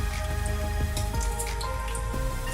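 Cumin seeds hit hot oil in a pan for mixed daal, giving a loud, dense crackle with scattered pops and drips over a steady background hiss.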